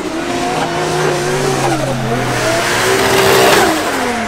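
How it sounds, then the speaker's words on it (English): Drift cars at a Drift Masters event rev and test their engines, a continuous loud roar with rising and falling engine pitch and a steady low drone, with no talking. "They're testing the cars right now."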